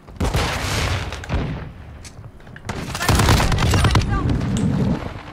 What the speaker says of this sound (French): Je lance une grenade flash.